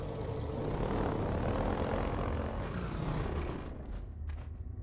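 A combat helicopter in the video game Half-Life 2, a loud, continuous rotor and engine roar that holds steady, then thins slightly toward the end, with no talk over it.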